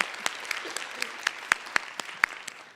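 An audience at a talk on maternal health gives a short burst of steady applause in a room, mid-level and even, with some sharper individual claps standing out.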